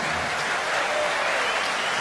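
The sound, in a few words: darts audience clapping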